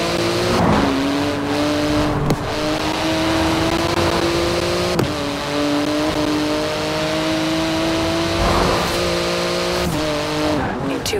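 A Porsche 911 GT2, wider than a regular 911, drives through Edinburgh city streets in Forza Horizon 4, its engine droning and revving with shifts in pitch, a few sharp clicks, and a brief tire squeal along the way.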